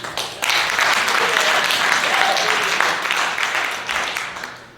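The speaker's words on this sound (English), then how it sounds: "Please clap your hands to acknowledge your suspicions." An audience claps together through a stage play, a steady broadband wash of applause that starts abruptly and holds for several seconds before thinning toward the end, with no voices over it.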